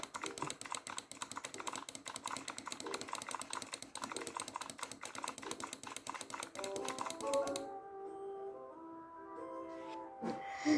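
Steady, fast typing on a computer keyboard, a dense run of close clicks that stops near the end, giving way to a faint tonal background.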